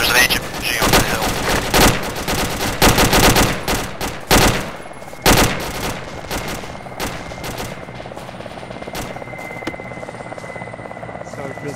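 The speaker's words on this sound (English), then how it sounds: "There's a Dishka right, up on that hill." Bursts of heavy machine-gun fire from a DShK on a hill in Arma 2, loud rapid volleys in the first half fading to sparse shots, over a steady helicopter rotor hum, with voices talking.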